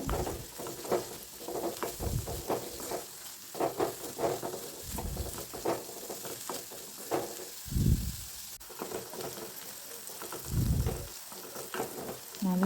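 Half-cooked onions sizzle in an open pan while a spoon stirs them in repeated scraping strokes, close and steady over a continuous frying hiss, with no talk.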